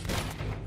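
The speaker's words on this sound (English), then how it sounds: "Just keep shooting." A short, loud burst of overlapping gunfire from close by in the video game Uncharted 2: Among Thieves, crackling and booming for under a second.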